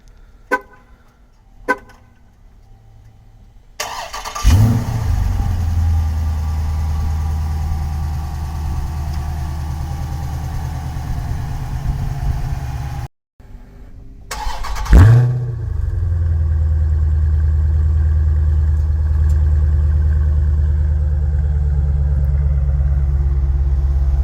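A few faint clicks, then a 2020 Dodge Challenger R/T Scat Pack's 6.4L engine cranks and fires into a deep, loud rumbling idle; it cuts off briefly, restarts, and settles back into a heavy idle.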